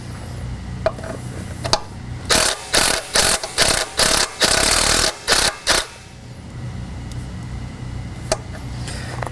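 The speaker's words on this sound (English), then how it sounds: "I like to use an impact to go ahead and get it started because it's pretty tight." An impact wrench breaks loose a tight 9/16 Allen oil plug on a Prep Master gearbox, firing several loud, close bursts of rapid hammering in a row before it falls quiet.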